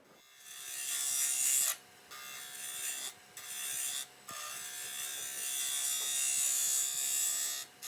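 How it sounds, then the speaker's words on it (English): A tool shear scrapes a very dense, dry wood bowl spinning on a lathe, making a close, hissing scrape in sustained passes broken by brief pauses. "So continuing with some shear scraping here, trying to refine the shape a little bit."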